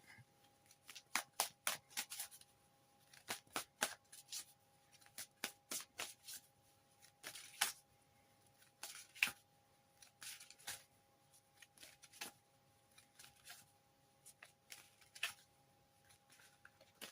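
Oracle cards being shuffled by hand in a quiet room, giving bursts of soft riffling and flicking, each lasting a second or so, with short pauses between them and no talking.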